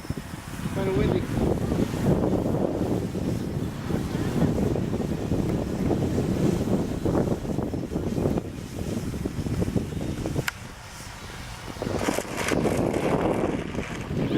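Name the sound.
strong wind blowing at an airfield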